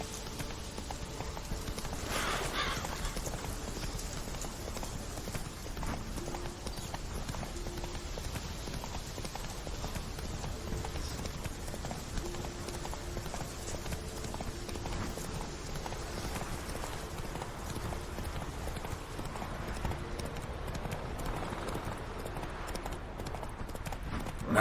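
In The Witcher 3, the horse Roach gallops in a steady, rapid clip-clop of hooves, moderately loud and continuous over a faint ambient wash.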